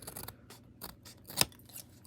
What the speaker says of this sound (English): grab your scissors and just make a couple more adjustments